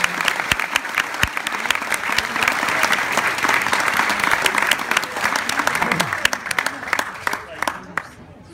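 A concert crowd applauds warmly for an opening act, with dense clapping and scattered sharp claps and cheers that fade out at the end.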